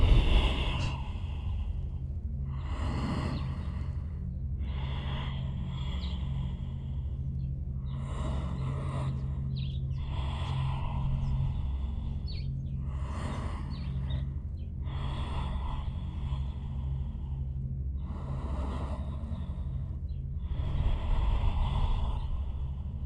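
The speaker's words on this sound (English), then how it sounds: "Taking some nice deep breaths." Slow, deep breathing during a yoga stretch, audible inhales and exhales repeating in a steady rhythm close up, over a low steady background hum, without speech.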